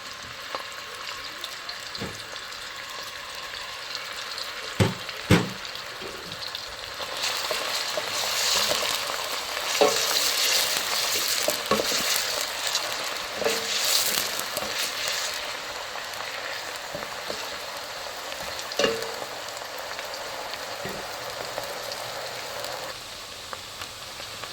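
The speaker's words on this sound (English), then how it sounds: "Then I stir." Red onions and ginger sizzle in hot palm oil for a Nigerian egusi soup, a continuous crackling fry broken by a few sharp spoon knocks against the pot as they are stirred.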